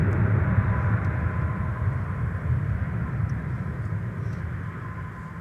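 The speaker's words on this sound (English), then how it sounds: "The United flight that has just touched down is the one from Charlotte. It's a 73-8." United Boeing 737-8 airliner landing at MSP airport, a steady broad low jet rumble and roar heard from a distance, holding at a constant level throughout without voices.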